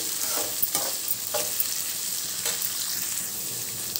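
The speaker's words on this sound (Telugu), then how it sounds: "దీంట్లో శనగలు, అలాగే బఠానీలు కొన్ని, వీటిని కూడా 1 నిమిషం పాటు వేయించుకోవాలి" Chickpeas and green peas are stirred and fried in a pan for vegetable fried rice, a close, even sizzle broken by a handful of scraping, rattling spoon strokes.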